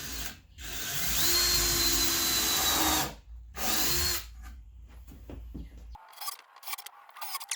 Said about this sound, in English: drill a couple pilot holes